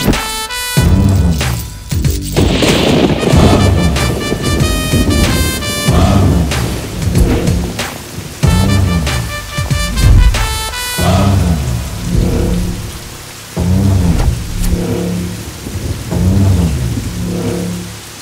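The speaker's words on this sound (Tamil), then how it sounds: "மழை பெஞ்சுக்கிட்டு இருக்குல்ல" Heavy rain pours steadily with rolls of thunder during a rainy scene in a Tamil film, loud and close, mixed with dramatic music swells and no speech.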